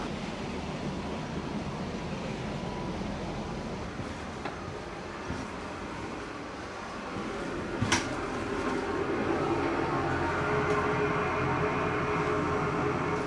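Inside a moving passenger train wagon there is a steady rumble and hiss of travel, with a faint clack near the middle and the noise swelling slightly toward the end, with no talk.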